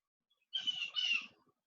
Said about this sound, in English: We've got a loudmouth bird over here.